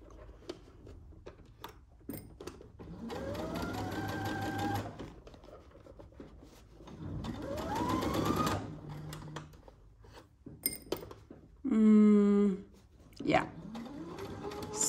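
A domestic sewing machine makes a short backstitch, a brief rattling mechanical burst near the end, set amid a person talking close by during a dressmaking session.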